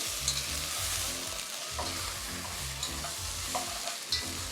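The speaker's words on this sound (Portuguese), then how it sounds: "Depois de adicionar o tomate, vamos fritar ligeiramente." Vegetables with tomato pulp frying lightly in a pan while being stirred, a steady low sizzle with recurring soft stirring scrapes, close and continuous, no voices.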